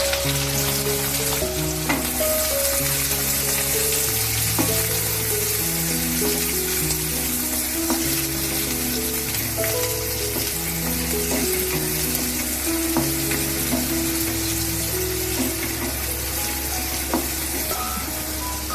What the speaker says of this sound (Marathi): कांदा चांगला भाजून घेऊया आपण